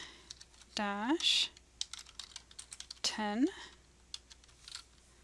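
Typing on a computer keyboard, heard as scattered, fairly close clicks across the clip, with two short tonal, voice-like sweeps rising near the start and again around the middle.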